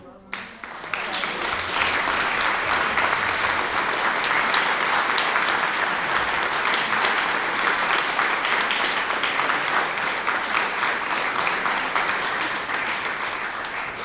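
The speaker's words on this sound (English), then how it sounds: "we would all like to applause, like a really big applause" Sustained applause from a large concert audience, dense and even, building quickly after a brief quiet start and continuing strongly for the whole stretch.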